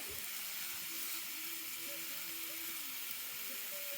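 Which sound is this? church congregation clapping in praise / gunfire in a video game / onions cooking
onions cooking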